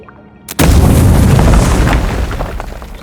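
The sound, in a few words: grenade explosion in video game Avowed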